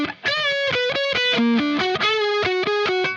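Distorted electric guitar plays the Incubus "Rogues" riff, a quick run of sustained, ringing notes shifting pitch in a steady rhythm, loud and close with effects coloring the tone, no voices.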